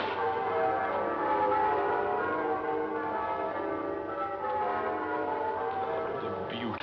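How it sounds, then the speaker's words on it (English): Church bells peal on Christmas morning in a 1951 film version of A Christmas Carol, a continuous, resonant ringing that holds steady for several seconds with no talking over it. "The merry, merry bells."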